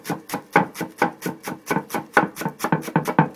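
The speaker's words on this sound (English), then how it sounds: "We're going to add one other item, some cilantro," A knife chops cilantro on a cutting board for rice, beans and mixed vegetables, striking in a quick, steady rhythm of about a dozen close, crisp taps with no talking.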